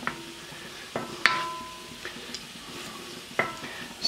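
Shrimp cooking in a small wok, with a low sizzle under scattered metallic clinks and stirring scrapes from a utensil against the pan, including one sharper clank; no talking.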